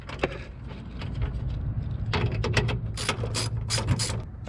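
Ratchet tightening nuts on the air intake studs of a 2019-2020 Silverado/Sierra 5.3L/6.2L V8, rapid clicking pawl bursts that start sparse and grow into several quick runs, close up and alone.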